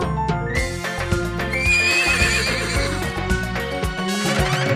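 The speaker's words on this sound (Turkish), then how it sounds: "Burada kişner, orada kişner, kişner, kişner, her yerde kişner" Cartoon-style horse neighs and whinnies ring out over a bouncy children's farm song with steady music throughout, the whinny rising clearly above the backing track near the middle.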